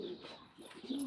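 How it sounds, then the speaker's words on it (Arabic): Pigeons on a rooftop give a few soft, low coos in quick succession, faint and close, with no talking over them. "شوف الحمام"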